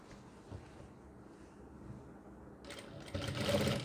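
A sewing machine stitches a kurti collar, faint and quiet at first, then a louder burst of rapid stitching near the end.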